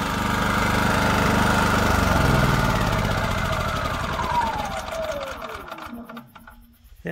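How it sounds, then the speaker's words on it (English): A small Champion generator running on propane drones loudly and close, then its pitch sinks as the engine winds down and stops near the end. "It didn't stop the generator with using propane."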